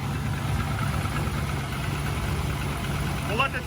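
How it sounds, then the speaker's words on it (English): An LS V8 swapped into a Mazda Miata idles steadily and close by, a continuous low rumble with a faint chirp near the end. "We'll let this idle for a second."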